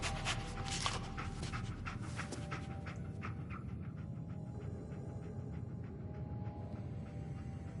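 Dogmeat, a dog in a video game, pants rapidly and sniffs close by in a steady rhythm that softens partway through, with no talking.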